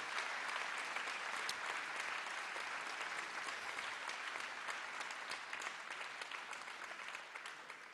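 A conference audience at a French national meeting claps steadily for several seconds, dense and even, fading slightly toward the end with no voices over it.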